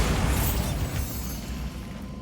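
Bombarda spell explosion in Hogwarts Legacy, a loud broadband burst at the start that decays into a rumbling tail over about two seconds.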